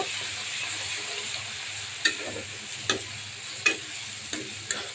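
Dried shrimp frying with garlic and onion give a soft, close sizzle, punctuated by five sharp stirring clacks of a spatula against the pan at roughly regular intervals, with no talk.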